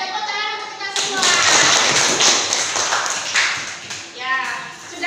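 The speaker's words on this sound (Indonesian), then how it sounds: "Ya, tepuk tangan untuk kita semua." A classroom of pupils clapping their hands together in a loud burst, with a singsong voice over it at the start and end.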